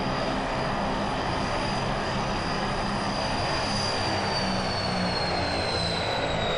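A Thai Airways airliner's engines roar in BeamNG.drive, a loud, steady broadband rush with a high whining tone on top that holds evenly throughout, heard without talk.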